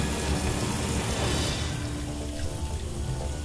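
A bathroom tap runs in a steady, dense rush of water that stays loud throughout, with no talking.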